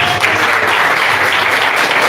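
A church congregation applauds the Lord Jesus, a dense, loud and steady wash of clapping from many hands filling the hall without a break.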